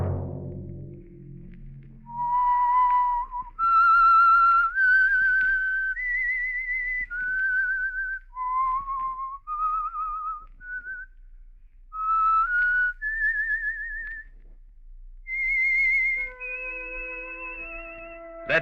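A solo whistled theme tune for the 1946 radio show The Whistler, clear and close, moving through a series of held, gliding notes with short breaths between phrases.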